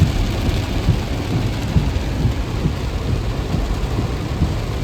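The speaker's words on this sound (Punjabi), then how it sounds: "ਮੀਂਹ ਬਹੁਤ ਪੈਣ ਲੱਗਿਆ ਬਾਹਰ" Heavy rain pours outside with a deep low rumble running underneath, a loud steady downpour with occasional heavier thuds and no voices.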